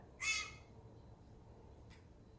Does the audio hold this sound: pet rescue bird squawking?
yes